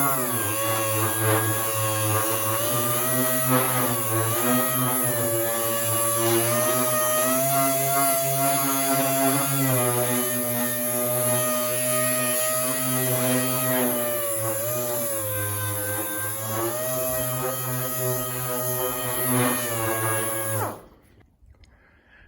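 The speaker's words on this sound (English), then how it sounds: "So let's get to the sanding." A power sander whines steadily on a car panel for about twenty seconds, a loud close buzzing drone with slight pitch wobbles, then cuts off abruptly.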